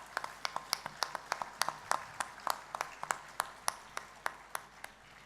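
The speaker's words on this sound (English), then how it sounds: "Let's give them a big hand of applause." Faint, evenly spaced hand claps ring out at a charity dinner, a sparse and distant round of applause with a steady rhythm over a quiet room hum.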